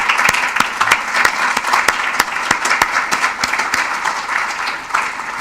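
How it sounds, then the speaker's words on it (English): An audience at a prostate cancer medical session gives a sustained round of applause, dense overlapping claps continuing steadily throughout at close range. "I think we should give Fernando a round of applause for years of work"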